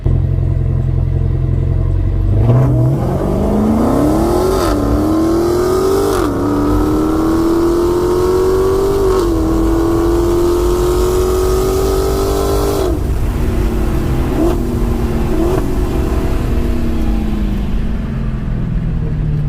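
A car launches hard at a drag strip, engine revving up through several shifts and gears with a loud, rising roar that holds for about ten seconds before easing off, close and dominant with no talking.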